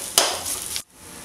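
Vallarai greens stir-frying in a pan, a sharp clatter as the spatula strikes, then a bright sizzling hiss that cuts off abruptly and leaves only a faint low simmer.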